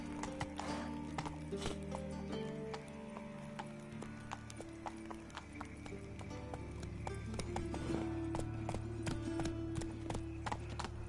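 Roach the horse gallops in The Witcher 3, steady clip-clop hoofbeats pounding at close range with an occasional whinny, continuous and without speech.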